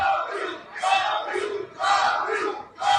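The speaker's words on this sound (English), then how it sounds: "Listen to the crowd here" A capacity crowd at the East versus West 12 fight event at the Green Park Hotel in Pendik, Turkey roars in loud rhythmic chanting bursts that rise and fall several times in quick succession.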